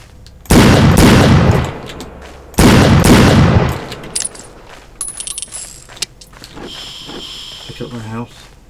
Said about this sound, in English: I'll give myself quite a powerful gun because I need to shoot and kill him quick.